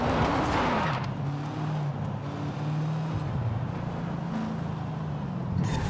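A car in Forza Horizon 5 is drifted with the handbrake on the Lake Erie Speedway drift track, a continuous loud engine whine that rises and falls with gear changes under a steady tire roar and hiss, with no voices.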